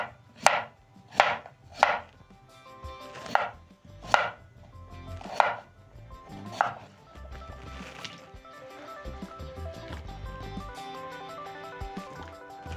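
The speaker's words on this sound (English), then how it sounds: "so I'm going to finish up chopping my potatoes" A knife chops raw potatoes on a cutting board, seven sharp, evenly spaced strikes, then softer, denser chopping continues with quiet clatter.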